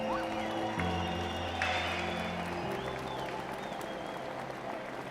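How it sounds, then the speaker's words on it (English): Audience applause in a large arena, the Budweiser Event Center, at a heroes ceremony, with a steady wash of clapping and crowd noise under sustained background music tones. "please give them a round of applause, as well as Budweiser Event Center"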